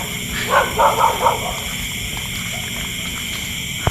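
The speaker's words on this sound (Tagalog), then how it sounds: "Ang daming aso dun." Several dogs bark in the distance at a cemetery at night, three or four quick barks in a short cluster that then fade into a steady hiss of background noise.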